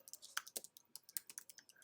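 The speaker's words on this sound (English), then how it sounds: "I'm going to start by typing in" Quick, light keystrokes tap out a search on a computer keyboard, an irregular burst of about twenty close, crisp clicks with short pauses, faint and alone without any talking.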